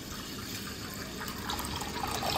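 Soaked rice being rinsed with water for chicken rice dumplings, a steady running pour and splashing of water in a bowl or sink, close and moderately loud, swelling slightly toward the end.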